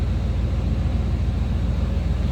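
Low, steady rumble from the 5.7 V8 of a 1995 GMC Sierra 1500 SLE pickup, idling close by with an even, continuous throb and no voices.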